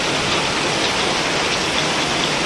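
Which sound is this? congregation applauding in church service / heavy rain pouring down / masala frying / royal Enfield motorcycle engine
heavy rain pouring down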